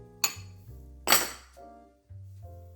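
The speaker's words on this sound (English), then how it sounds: "we are going to add our sweeteners to this bowl" White and brown sweeteners are added to a kitchen bowl, with two sharp clinks of a utensil against the bowl between softer clatter, close and fairly quiet.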